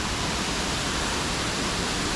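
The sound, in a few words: indoor waterfall in an airport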